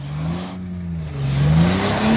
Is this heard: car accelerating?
yes